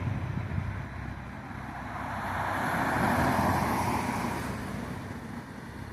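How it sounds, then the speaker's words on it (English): A vehicle passes at a moderate distance, a broad road rumble with faint wind noise that swells to a peak around the middle and then slowly fades. "That's the vehicle right there."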